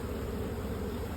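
Honey bees buzzing at a hive on a Hill Country ranch, a dense steady drone of many insects filling the short stretch, close and continuous.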